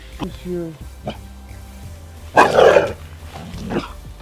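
A Dutch Shepherd barks in a few sharp, close bursts, one loud rough volley standing out midway, interleaved with people conversing nearby.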